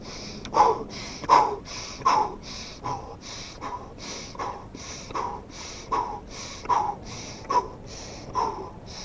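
Sharp, forceful breaths repeat in an even rhythm, roughly a dozen quick exhalations about every three-quarters of a second, close and alone, as a person performs dynamic breathing exercises.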